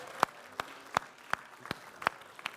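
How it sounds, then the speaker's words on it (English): A few isolated hand claps at a Swiss coffee festival, sharp separate smacks at an irregular, slowish pace over a quiet background rather than full crowd applause. "Big applause. Say loud, everybody."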